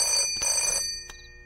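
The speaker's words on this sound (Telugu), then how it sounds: "మీ వాడెవడో పొద్దు నుంచి ఫోన్ చేస్తున్నాడు." A telephone bell rings in two bursts, a long trill followed by a short second trill that cuts off, with a faint tone trailing after it, fairly close and without talk.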